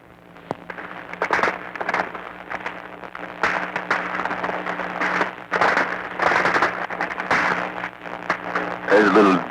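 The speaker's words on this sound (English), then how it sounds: "There's a little duel going on between machine guns now." Machine guns trading fire during 1944 combat in the Battle of Kwajalein, heard as repeated sharp bursts and cracks over constant background noise. Some bursts come close together, others are spaced apart, and the recording is fairly loud and rough.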